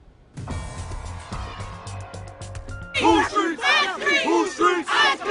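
A protest crowd in Ferguson shouts angrily at police officers, a loud chorus of overlapping raised voices chanting and yelling in bursts, with a low engine hum beneath the opening seconds.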